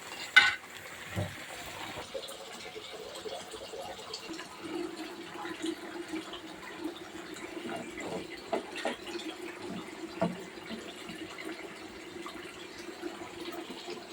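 Water poured into a cooking pot of eggplant curry, a soft continuous trickle and splash with light stirring clatter, close and moderately quiet, a sharp knock near the start.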